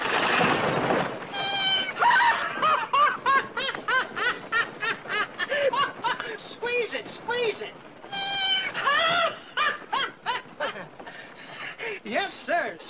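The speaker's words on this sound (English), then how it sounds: "Squeaky, squalling cats. One of my fastest selling items." Squeaky squalling novelty toy cats sold by a traveling peddler, giving a rapid run of high, bleating squeaks and meow-like squeals, close and loud, over roughly thirteen seconds with brief pauses between bursts.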